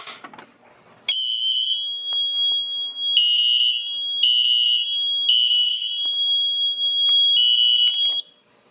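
An SFP1024 fire alarm panel's system test sets off a piercing electronic alarm tone that starts abruptly, pulses in repeated long bursts for about seven seconds, then cuts off.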